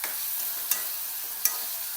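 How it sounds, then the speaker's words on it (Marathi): Chopped onion frying in oil for an egg curry: a constant close sizzle with two brief sharp scrapes of the spoon, and no voices. "तेल सुटेपर्यंत भाजायचं कांद्याला."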